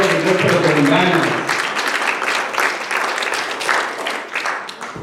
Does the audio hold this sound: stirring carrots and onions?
no